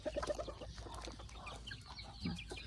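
Free-range gamefowl hens cluck faintly in the distance outdoors, a few soft clucks over low background noise.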